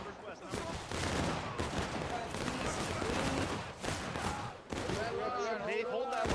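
Musket volleys crackle through a video game battle between British and Patriot forces, dense bursts of gunfire overlapping near and far while someone speaks over the fighting.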